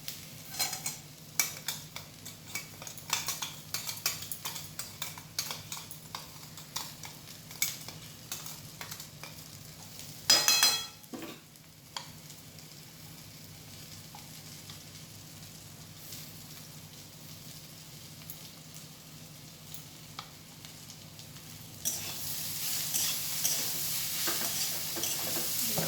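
Grated coconut being stirred and fried in a pan over low gas heat: a soft continuous sizzle with scraping stirs and a brief metallic clatter of utensil on pan, the sizzle rising louder toward the end.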